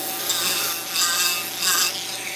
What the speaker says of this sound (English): I'm going to round the back of this crappie off with a real rough grinder here